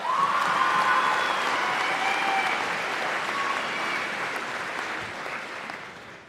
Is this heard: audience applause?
yes